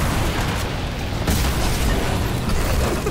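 A loud, rumbling Fortnite explosion fills the clip, with a sharp second burst partway through and a sustained roaring blast texture, no voices.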